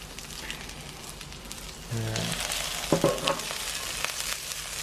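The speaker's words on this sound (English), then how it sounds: "we're stir frying all the vegetables" Vegetables for Korean japchae sizzle steadily in a hot pan as they are stir-fried, with a few clinks of a utensil against the pan.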